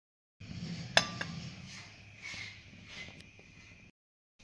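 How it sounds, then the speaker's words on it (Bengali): A metal kadai (wok) is set down on a stove for steaming an eggless semolina cake, giving one sharp clank with a brief ringing tail, followed by softer scrapes and knocks over a low background hum. "আমি কড়াইটা বসিয়ে নিচ্ছি।"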